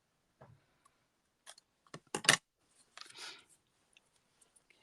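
Scissors snipping paper during a papercraft project, a few quiet clustered cuts and clicks separated by silence, close and soft.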